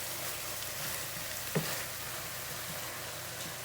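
Vegetable corn with red peppers fries in a pan for a Southern fried corn side dish, giving a steady, even sizzle throughout with one small clink partway through and no voices.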